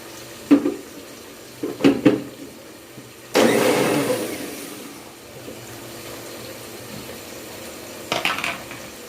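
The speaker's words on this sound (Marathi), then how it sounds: "मिक्सरच्या भांड्यातच मी दही फिरून घेतलेले" A kitchen mixer grinder whirs as it blends curd in its jar while a veg pulao is cooked, with a few short pulses followed by a longer loud run that eases into a steady hum, then another brief burst. No talking.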